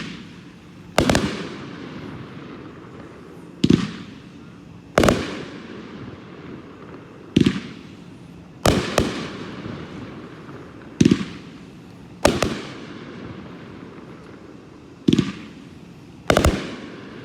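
A Sky Shooter 15-shot firework cake at a public fireworks show in Andover, Kansas fires sharp booming reports at roughly two-second intervals, each bang ringing out with a short echoing tail, loud and outdoors.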